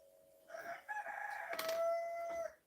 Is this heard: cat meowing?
no